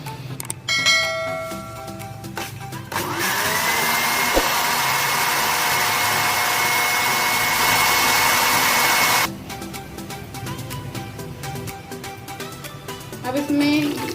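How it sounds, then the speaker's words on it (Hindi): Blender grinding mint leaves, lemon juice and Sprite, a loud steady whirring roar lasting several seconds before cutting off, with clinks and faint handling sounds around it. "पहले हम थोड़ी सी स्प्राइट ऐड करेंगे और इस सब चीजों को ग्राइंड करेंगे।"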